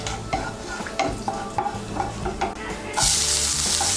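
A spoon stirring cardamom, cloves and a piece of cinnamon frying in hot oil for egg biryani, with regular scraping taps against the pan over a steady sizzle that suddenly jumps to a loud, bright hiss partway through.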